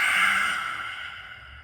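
Slow, steady inhalation during a pranayama yoga breathwork exercise, a soft airy breath close to the mic that fades gradually over its length, with no talking.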